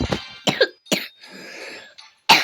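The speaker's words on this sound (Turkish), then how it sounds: "ben niye bu kadar öksürüyorum anlamadım" A person coughs several times in sharp, close bursts, with a throat-clearing rasp between them and a final loud cough.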